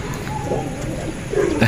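Pigeons coo in a brief, close burst of low throaty calls, with a soft rustle of the birds around them.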